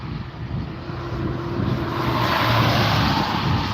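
A propeller airplane approaching to land at an air show in Dalhart, Texas, its engine drone swelling steadily louder as it nears, with light wind noise and no talk.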